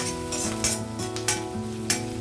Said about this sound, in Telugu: కొద్దిగా ఆనియన్ హీట్ అయ్యాక, ఇది వేరుశనగ నూనె, అందువల్ల పొంగు వస్తుంది.